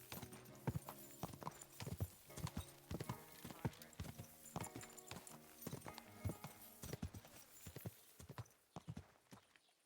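Horse hooves clip-clopping in a rapid, uneven gallop rhythm in the video game Kingdom Come Deliverance 2, crisp and close, fading out near the end with a faint voice briefly underneath.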